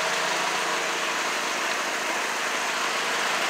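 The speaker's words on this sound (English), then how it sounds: "you hear this little motor running?" A small Kia car engine with 440,000 miles runs at a steady idle, a continuous even hum with a hissy edge, heard alone.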